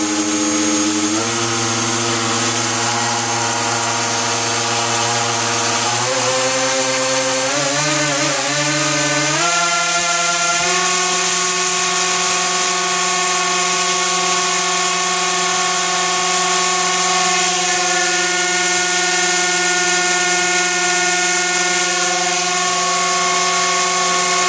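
Thrust-test motor on a gimbal rig spinning up to around 1400 RPM, a loud continuous whine that climbs in pitch over the first ten seconds and then holds steady at high speed, close and alone.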